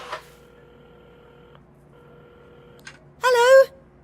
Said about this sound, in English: while at the counter, Carmen had started dialing the phone.